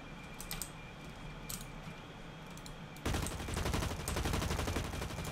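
Gunfire in the video game BlackLight Retribution, a soft rattle of shots that jumps to a dense, continuous burst of rapid automatic fire halfway through, fairly faint overall.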